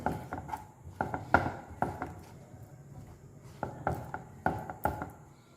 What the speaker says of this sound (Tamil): நான் இது எல்லாத்தையுமே இந்த சுகர் சிரப்பில் நல்லா நம்ம மிக்ஸ் பண்ணிக்கலாம்